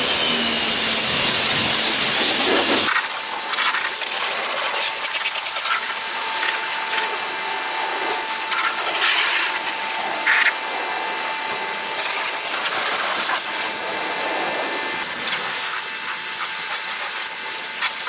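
Water sprays steadily to rinse a dMAX vehicle during a wash after its wheels have been cleaned, making a loud, continuous hiss that runs almost unbroken from start to finish after a brief, different-sounding opening.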